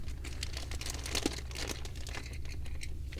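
A plastic bag inside a diecast toy car box crinkles and rustles up close as it is handled and pulled open, in a run of irregular crackling bursts.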